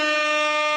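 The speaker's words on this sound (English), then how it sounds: "It's the rap air horn right there at the bottom right" A rap-style air horn blast fired from a soundboard: one loud, steady, brassy honk lasting under a second, alone and without talk.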